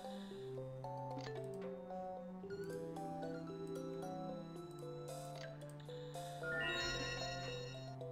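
A cat meows several times in a row, with long drawn-out tonal cries of shifting pitch that rise sharply near the end, alone and fairly close.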